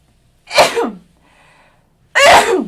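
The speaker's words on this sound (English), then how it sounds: "You all know when I sneeze, it's true." Two loud, close sneezes, separated by a short pause and a faint whistling breath.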